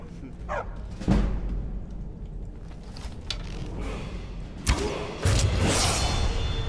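Dog barking in the video game Skyrim, a few sharp barks scattered over a background of game ambience, thuds and creaks, moderately loud.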